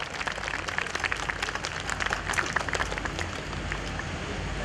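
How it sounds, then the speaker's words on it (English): Audience applause for the chief guest at a DAV school function, a dense steady patter of clapping with crowd murmur and some babble mixed in, moderately loud and continuous throughout. "Please, a huge round of applause for our chief guest."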